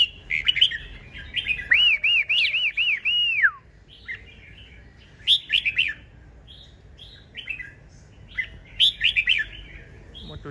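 Bird chirping and singing close by, a bright whistled phrase of rising and falling notes followed by several shorter chirp bursts with pauses between, over a low, steady outdoor background.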